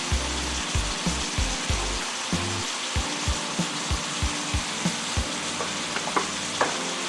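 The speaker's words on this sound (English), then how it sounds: "All we're doing now is just letting this beef brown." Ground beef seasoned with onion powder, salt and pepper sizzles steadily in a pan as it browns for baked beans, with regular soft scraping stirs of a utensil over the frying hiss.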